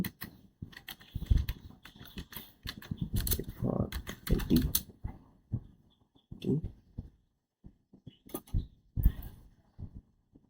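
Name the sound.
typing on a computer keyboard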